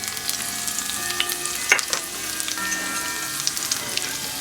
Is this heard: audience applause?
no